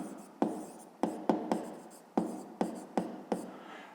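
A pen writes by hand on paper, giving about nine sharp scratchy strokes at an uneven rhythm, close and fairly quiet, with short pauses between them.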